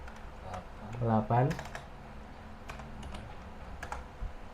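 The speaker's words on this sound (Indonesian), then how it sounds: "iki saiki ketik 192 192 168" Quick clicking keystrokes on a computer keyboard as an IP address is typed, close and fairly faint, with a short burst of a voice speaking near the start.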